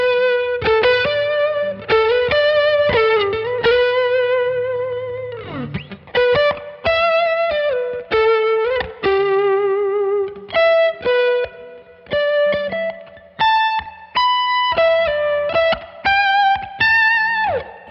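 Electric guitar playing a lead line through a Neural DSP amp-modelling plugin, a clean, singing tone with sustained bent notes and short melodic phrases that come in loud bursts with small gaps, alone with no voices.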